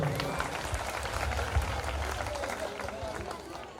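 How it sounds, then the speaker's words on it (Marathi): Audience at a jayanti celebration event claps in a dense burst of applause, fairly close and steady, gradually easing toward the end. "जरा जोरदार टाळ्या होऊन जाऊ दे"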